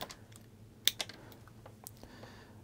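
Wire cutters snipping copper lampholder wires to length, a sharp close click near the start followed by a second fainter snip and a few light handling taps, alone in a quiet room.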